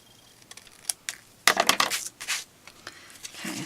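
Scissors snip through vellum while a small flag is cut into the end of a handmade card, with a few light clicks followed by a close, crisp run of crunchy cuts.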